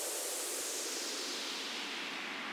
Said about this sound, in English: And of course, I added a lot of effects, like crash sounds, white noise.